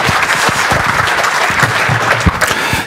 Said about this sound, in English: Let's applaud Philippe.